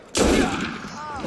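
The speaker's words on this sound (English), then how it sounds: "Now it's time to pop people with my pistol" A single loud pistol shot bursts out in Assassin's Creed Unity, sharp and close, followed by a lingering rumbling decay with faint ringing as the echo fades.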